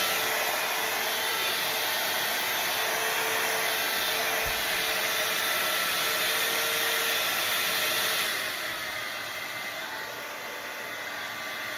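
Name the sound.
hot air brush blow dryer running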